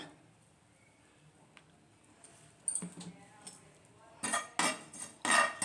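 A spoon clatters and scrapes in a pan while curry leaves, coconut, tamarind and asafoetida are stirred, with a quiet start followed by louder, irregular clinks near the end.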